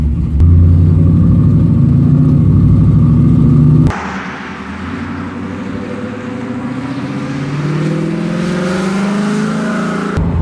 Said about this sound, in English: It's a throttle body injected small block Chevy 350. Can it make some good noises and move pretty well?